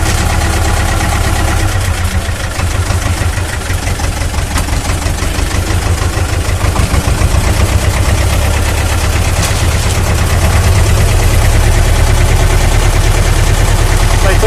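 A loud, steady Ursus C330 tractor engine running under load while lifting a pallet of about 700 kg, rumbling and chugging continuously with a rough mechanical rattle throughout.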